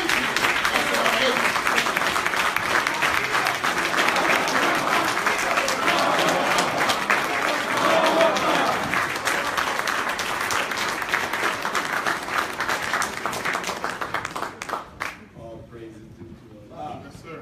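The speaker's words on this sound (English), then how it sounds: "Let's bring him on with a well-deserved round of applause." An audience at a lecture event breaks into loud sustained applause, dense clapping filling the hall for most of the clip before fading out near the end, with a voice talking over it.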